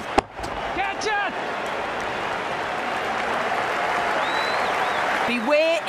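Steady crowd applause and cheering rises from the stands in the Ashes Cricket game during an India vs Australia one-day match, a continuous wash under brief bursts of commentary talk.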